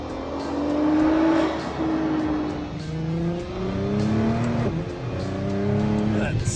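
Nissan GT-R engine revving hard with rapid upshifts, raspy and throaty, pitch climbing and dropping with each gear change, loud and close, with voices talking over it.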